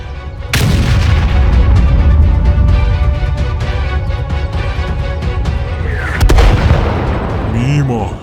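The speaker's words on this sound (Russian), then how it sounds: "Даю первый пристрелочный выстрел." A heavy MS-1 tank cannon blast in a video game booms suddenly, followed by a rumbling, reverberant tail and mechanical noise, with a second sharp crack near the end.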